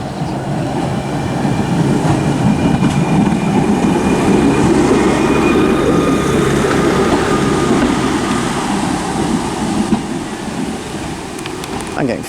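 Class 139 railcar 139001 rolls into Stourbridge Junction station on the shuttle from Stourbridge Town, giving a loud, close, steady rumble and wheel noise that holds for several seconds before easing off toward the end.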